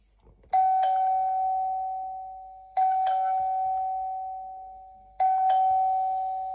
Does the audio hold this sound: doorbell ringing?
yes